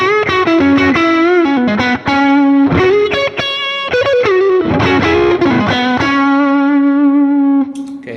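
Heavily distorted electric guitar through the stock TS10 amp model on a Neural DSP Quad Cortex, with sustained chords and short melodic bends playing loud and continuous with a chorus-like shimmer and no voice.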